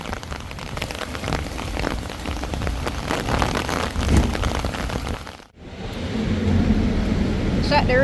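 Heavy rain falls steadily in a breezy outdoor setting, a dense hiss of drops on surfaces throughout, briefly cut off by a short gap before the downpour returns just as strong.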